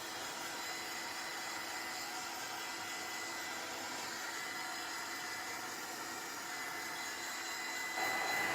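A heat tool blows steadily while drying a craft project, a continuous even whirring hiss heard close and alone, with a slight change in tone near the end.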